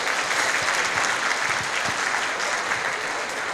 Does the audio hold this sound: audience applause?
yes